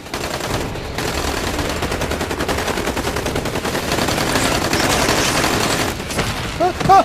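Automatic weapon fire in an action movie scene, with dense, continuous bursts of machine-gun shots over several seconds amid shouting and chaos, loud and close.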